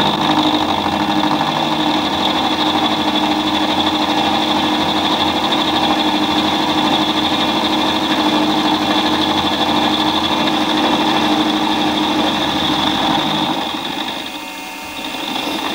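A Warco WM18B benchtop milling machine takes a 0.2 mm depth of cut, giving a steady, loud whirring motor and spindle drone with a faint high whine that holds evenly throughout and dips slightly near the end.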